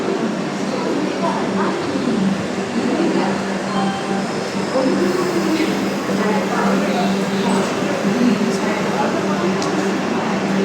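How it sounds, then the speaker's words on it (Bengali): A large passenger train fitted with two extra coaches rolls past, a dense continuous rumble and rattle of rail cars with steady hum, loud and close for the whole stretch, with people talking over it. "ঠিক মাঝামাঝি বিশাল ট্রেন সুন্দর"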